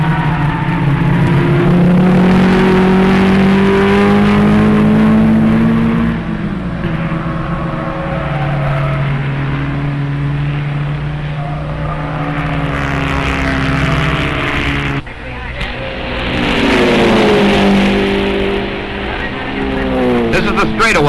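Porsche race cars roar down the straightaway at over 100 mph at Road America in 1958, engines droning loudly with pitch sweeping up and down as cars pass, under a narrator talking throughout.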